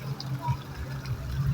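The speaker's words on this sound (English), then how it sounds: "water fountain." Water splashes steadily from a public fountain in Leimert Park, a continuous low wash of falling water with outdoor background noise and no talking.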